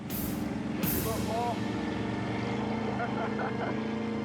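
Truck engine labouring on a steep, dangerous dirt climb while stuck, a loud droning roar with grinding strain and a brief hiss at the start, heard under a narrator's voice.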